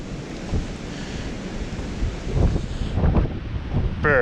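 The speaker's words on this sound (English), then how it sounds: "it is windy." Strong gusts of wind buffet the microphone in a forest at Weiser State Forest, Port Clinton, rumbling and roaring unevenly with no one speaking.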